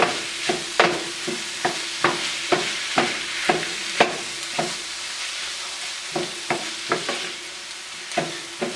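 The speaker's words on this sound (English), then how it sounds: "we'll stir this up" A spoon stirs sofritas with chipotle sauce around a sizzling pan in quick, regular scraping strokes, about two per second, over a soft, constant frying hiss.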